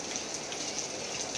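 Heavy rain pouring steadily, a dense hiss of drops close by with no pauses and no voices.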